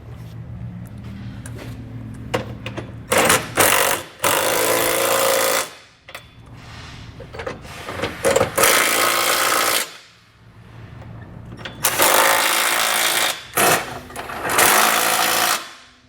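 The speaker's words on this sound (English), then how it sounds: "we're going to come back with a 3/4 inch socket and snug everything up." Impact gun driving a 3/4 inch socket to snug trailer hitch bolts on a 2022 GMC Terrain, Curt receiver install; several loud bursts of buzzing rattle, a few seconds each, separated by short pauses.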